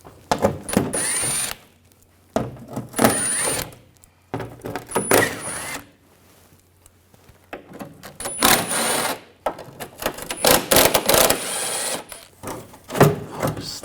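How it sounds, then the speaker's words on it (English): 8mm socket tool backing out bolts on the underbody shield of a 2007-2013 BMW X5: several separate bursts of whirring, ratcheting mechanical noise, each lasting one to two seconds, with short quiet gaps between, close up. "We're going to remove this shield using an 8mm socket."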